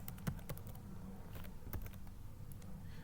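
Keys tapped on a computer keyboard while entering a web address, with a quick irregular run of light clicks at close range over a quiet room.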